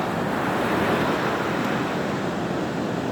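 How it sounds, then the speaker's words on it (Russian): Steady crashing surf of the Caspian Sea washes continuously onto the shore near Derbent, a dense roar of waves with some wind noise over the microphone and no voices. "это Каспийское море."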